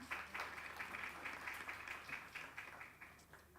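Faint applause from an audience at a gender equality bell-ringing event, a quiet steady patter of many hands clapping with distinct individual claps throughout.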